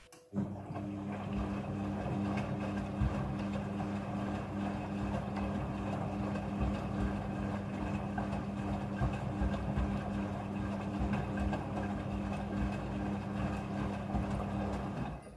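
A washing machine's steady mechanical hum with running water underneath, continuous and even, as it fills and rinses bed sheets and pillowcases.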